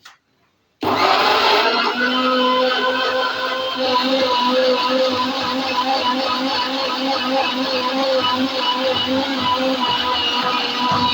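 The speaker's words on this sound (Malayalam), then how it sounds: "നല്ലൊന്ന് ജ്യൂസ് അടിച്ചു" A mixer grinder roars to life after a brief silence and runs steadily at full speed, its loud motor whine and churning continuing to the end.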